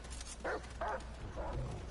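A companion dog barks in a survival shooter game, three short barks spaced about half a second apart, moderately loud over a steady low rumble of game ambience.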